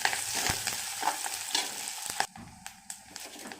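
Onion, garlic and curry leaves sautéing in oil with mustard seeds, a close, bright sizzle stirred with a few sharp scraping taps of a spoon that settles into a quieter crackle, with no voices.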